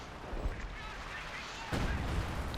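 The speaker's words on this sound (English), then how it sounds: "More units being wiped here by artillery fire." Artillery fire in the Company of Heroes 2 strategy game, a dense rumbling barrage with a heavier blast partway through, continuous and moderately loud.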